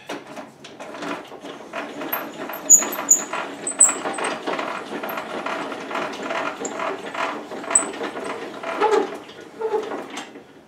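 Crank mechanism of a WEN 3720 10-inch table saw raising its blade, a steady run of close ratcheting, grinding clicks and faint squeaks with no talk.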